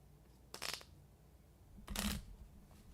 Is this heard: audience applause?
no